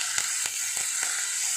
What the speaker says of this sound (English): I've just washed the leaves and I'm just frying this.